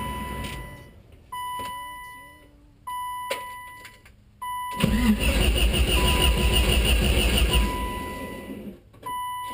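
A few electronic beeps chime, then a BMW E30's M42 engine cranks and catches on its first start, settling into a loud, steady idle before cutting off near the end.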